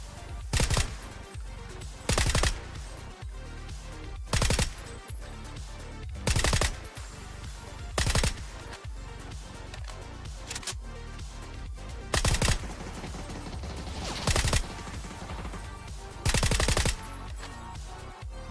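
Rapid bursts of automatic gunfire in the battle royale video game PUBG, several loud separated volleys at regular intervals over a steady game backdrop, no talking.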